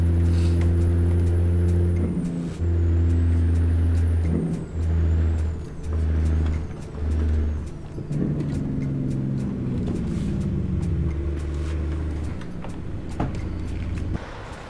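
Heavy Kenworth T800 truck engine in American Truck Simulator, driven through Colombian streets: a deep diesel drone that rises and falls through gear changes, with short revving bursts and hiss-like air brake releases.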